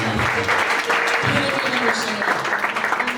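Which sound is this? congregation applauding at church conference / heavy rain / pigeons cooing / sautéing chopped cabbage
congregation applauding at church conference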